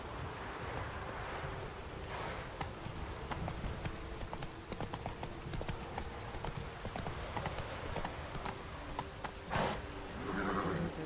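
Roach, the horse in the video game The Witcher 3, gallops with a quick, rhythmic clip-clop of hooves, moderately close and continuous, joined by brief whooshing and rustling near the end.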